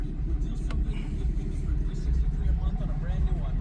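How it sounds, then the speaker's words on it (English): A 2018 Ram 2500 Cummins diesel truck idling, a low steady rumble close by with someone talking over it. "We're going to start the truck."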